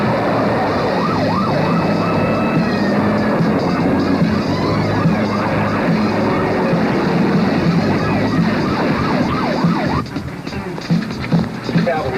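A wailing ambulance siren sweeps up and down continuously, loud and close, over engine rumble, fading slightly near the end.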